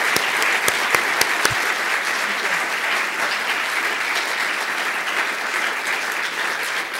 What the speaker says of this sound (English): let's give another big round of applause for Dr.